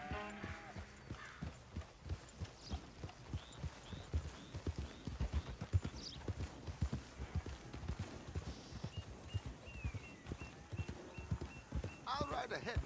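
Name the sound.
horse hooves clip-clopping in Red Dead Redemption 2 (video game)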